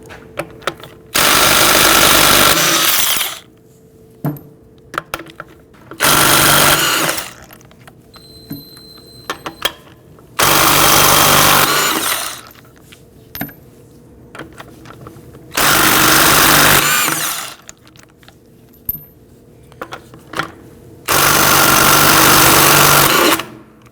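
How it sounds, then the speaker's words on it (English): Power tool with a 19mm socket loosening wheel lug nuts on a 2001-2009 Volvo S60, five loud sustained buzzing bursts of a few seconds each, separated by quieter gaps with light clinks. "Using a 19mm socket, loosen and remove the lug studs."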